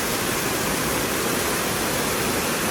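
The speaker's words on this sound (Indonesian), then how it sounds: "Dan ini air terjun yang kedua, jadi sebenarnya ada 7." Waterfall in Riau province, Indonesia, one of a chain of seven falls, roaring as a steady, dense rush of water that stays loud and unbroken throughout.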